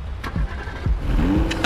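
A car in the video game Zoochosis pulling away, engine revving and rising in pitch with a couple of gear-change swoops, moderately loud and close, fading slightly as it drives off.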